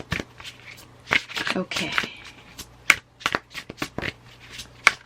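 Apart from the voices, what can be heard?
shuffling an oracle card deck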